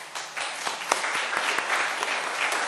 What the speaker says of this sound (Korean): 뜨거운 축하와 격려의 박수를 드리는 바입니다